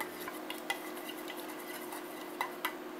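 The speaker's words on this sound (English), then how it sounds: "Give it a real good stir at this point." Stirring a dressing with dried tarragon in a bowl, a soft steady scrape with a few light clinks of utensil against the dish, close by and quiet, with no talking.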